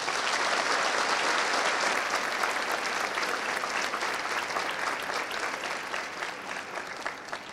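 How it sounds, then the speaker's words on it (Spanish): Sustained applause from a large crowd for newly graduating National Bolivarian Police officers at a ceremony, dense and steady for several seconds before easing slightly toward the end. "Un aplauso para ustedes, muchachos."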